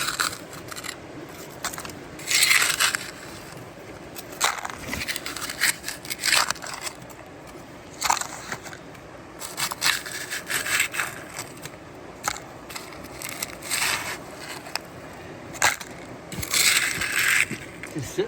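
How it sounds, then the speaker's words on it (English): A tool scrapes and digs through black sand at a creek while gold panning, giving gritty, intermittent rasping strokes in uneven bursts, close and moderately loud against a quiet outdoor background. "I'm just scraping the top layer."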